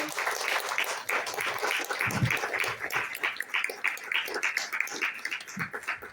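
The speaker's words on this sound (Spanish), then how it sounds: "¿Cuántos pueden darle un aplauso al Señor por esta oportunidad que nos da?" A church congregation applauds during a worship service, a busy, uneven spatter of clapping that runs throughout with some voices mixed in.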